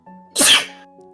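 A single sharp human sneeze sounds close up, with a short inhale before a loud, explosive burst, over a quiet background hum.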